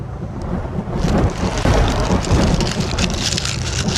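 Heavy rain falls on a stormy night, picked up by a microphone on a cemetery grave: a dense, loud, constant patter and wash, with low thundery rumbles underneath and no voices.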